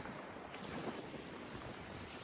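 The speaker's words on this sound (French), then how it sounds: "Par contre, il y a du vent" Steady outdoor wind rushing across the microphone in freezing Norway, a continuous broadband roar with gusty texture, alone with no voices.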